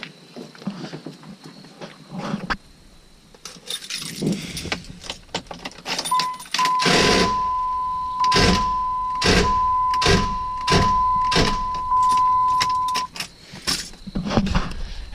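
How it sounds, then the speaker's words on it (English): A pickup truck with a worn starter cranks in a quick, regular series of mechanical bursts without catching, while a steady warning chime rings along beside it; softer clicks and rustling come before and after the cranking. "As you can hear, the truck won't start."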